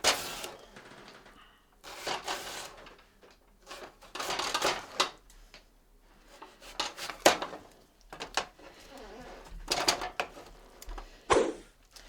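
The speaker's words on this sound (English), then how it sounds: "If you slice off one side, you can stabilize your potato. And then I just make nice thin slices." A knife slices a potato into thin slices on a cutting board, producing irregular scraping cuts and wooden knocks, some bunched together and others spaced apart, close and fairly quiet, with no talking.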